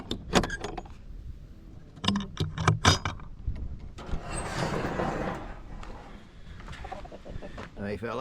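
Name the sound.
roosters clucking while being fed scraps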